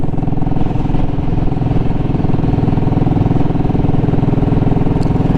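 A Royal Enfield Classic 500 motorcycle engine thrums loudly and steadily while riding on a chilly morning, a constant close rumble with no voices over it.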